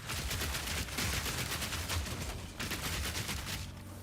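Dense, continuous barrage of artillery-style gunfire in Path of Exile 2, loud and sustained with rapid overlapping blasts and a brief dip partway through.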